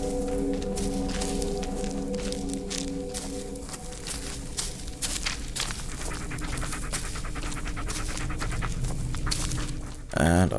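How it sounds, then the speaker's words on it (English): A dog pants rapidly and steadily at close range in the Blair Witch video game on PC, alongside footstep-like crunching and soft game sounds, ending in a brief burst of noise. "And I've got a dog panting."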